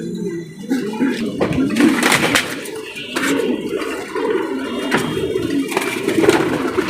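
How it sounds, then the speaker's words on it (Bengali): A female pigeon coos in soft, repeated throaty bursts, close by, with some watery background noise and faint voices around. "একটা মাদি কবুতর"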